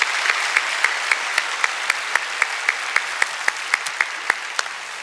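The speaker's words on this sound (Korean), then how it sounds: "하나님께 감사하는 박수로 영광 올려드리겠습니다" A church congregation claps during a Sunday worship service after the choir's hymn: loud, crisp, steady applause with a regular pulse of sharper claps standing out over the continuous patter.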